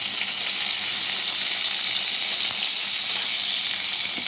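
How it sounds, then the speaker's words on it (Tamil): Mustard seeds, crushed garlic and curry leaves frying in hot oil while making rasam, a steady close sizzle and crackle throughout with no talk. "ஆயில் ஊற்றிட்டு கடுகு, அப்புறம் 1-2 நச்சு வச்சுருக்கக்கூடிய பூண்டு, அப்புறம் கொஞ்சம் கறிவேப்பிலை"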